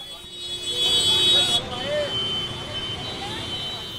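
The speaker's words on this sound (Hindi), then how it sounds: "हर तरफ रिक्शे और गाड़ियों के शोर ने इस्तकबाल किया" Busy street traffic of rickshaws and other vehicles in a crowded Old Delhi market area: a steady, close roadway hum with horn toots and buzzing tones, and people talking nearby under the din.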